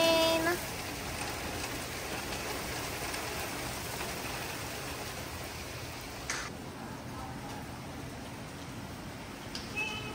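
Rain falling during a hurricane, a steady even hiss of downpour with occasional faint drips and ticks, continuous and alone throughout.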